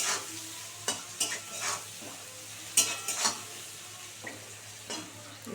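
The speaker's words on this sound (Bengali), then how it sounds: "ভাজা ভাজা হোক বন্ধুরা দেখো আলুগুলো কি সুন্দর করে ভাজা হয়ে গেছে" Potatoes frying in a pan while being stirred, with repeated scraping strokes and short clatters at irregular intervals over a soft sizzle, close by and fairly quiet, with no voices.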